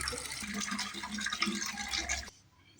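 Water runs into a vessel being filled for a household shrine, a steady close splashing rush that stops abruptly near the end, leaving quiet room tone.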